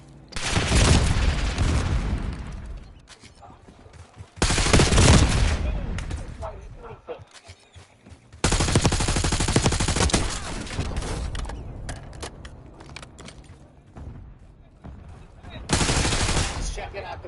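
Loud bursts of video-game gunfire in Call of Duty, several rapid volleys separated by brief lulls, with rumbling echoes and speech mixed in.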